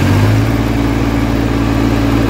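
A Massey Ferguson 245 DI tractor engine runs just after a service, a loud, steady low-pitched drone held at high revs throughout, close by and without talk.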